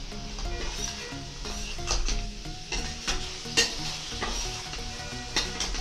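Chopped vegetables and tomato for poha frying in a pan, a continuous sizzle broken by repeated scraping stirs and small clinks, close and moderately loud, without speech.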